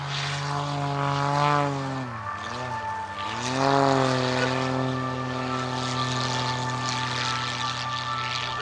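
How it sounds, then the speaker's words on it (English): Rick Goodwin's modified Pitts Special muscle biplane performs an aerobatic display at the RAF Cosford Air Show, its propeller engine droning loudly with a strong steady tone that dips and surges in pitch as it manoeuvres overhead. "It may look like a pit special, it's a very special pit special. This is Rick Goodwin, this is his muscle biplane."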